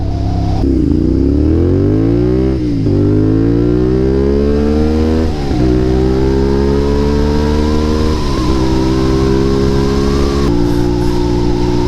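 A CFMOTO 450 SR motorcycle rides through a city at night, its engine loud and close, revving up through repeated gear shifts with rising pitch sweeps and brief drops between gears.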